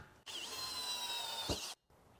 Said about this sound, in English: So for the drain hole, I'm going to use a 1 inch hole saw to cut that with.